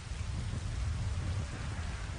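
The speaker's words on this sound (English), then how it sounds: "It's raining." Steady, dense rain falls in a My Hero Academia anime scene, a continuous hiss of drops with a low rumble beneath, loud and even throughout with no voices.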